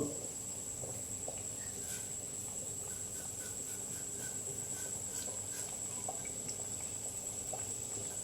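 Shrimp pieces fry in oil as a quiet, steady sizzle with soft bubbling and faint crackles, holding an even level from start to finish.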